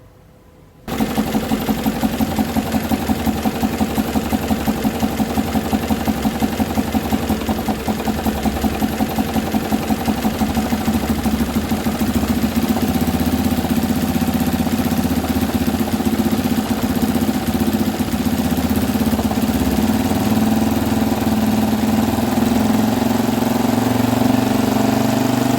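Small engine starts abruptly and holds a steady, loud mechanical drone at high speed, with a fast regular pulsing throb that stays constant for the rest of the stretch, and no voices.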